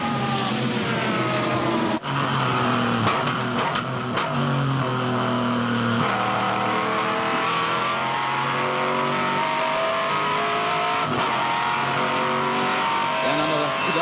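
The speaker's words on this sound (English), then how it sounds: "Let's have a listen to John Bowers' BMW as he rocks down Conrod Straight" A BMW GTR V8 race car at the Bathurst 24 Hour screams down Conrod Straight, its loud engine climbing steadily through the gears with sharp shifts, heard close for a sustained run while a commentator's voice faintly rides beneath.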